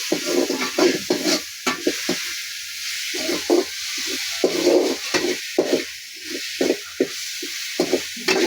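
Curry leaves crackle and sizzle in hot oil in a pan, with a steady hiss and intermittent scraping stirs punctuating the frying, close and moderately loud, no talking.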